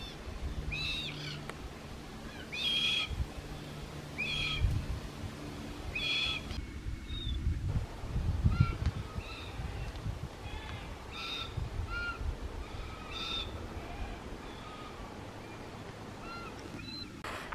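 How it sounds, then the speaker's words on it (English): Red-tailed black cockatoos call along the Bibbulmun Track, giving repeated harsh, rasping cries in spaced bursts, some closer and louder, over outdoor ambience and footsteps. "Those are the red-tailed black cockatoos."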